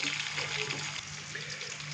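Finely chopped onion frying with whole spices in hot oil for a beef matar pulao, giving a steady, close hiss and crackle that stays even throughout with no breaks.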